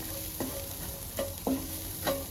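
Carrots and garlic sauté in a pan alongside egg tofu, a quiet, steady sizzle broken by three or four sharp utensil clinks against the pan, close with no talk.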